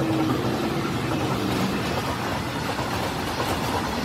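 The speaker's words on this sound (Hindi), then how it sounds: "हरा सिग्नल होते ही एक सुंदर सा मालगाड़ी प्रकट हुआ।" A fully loaded freight train rolls past close by at good speed, a loud continuous rumble of wheels and wagons with a brief high squeal near the start.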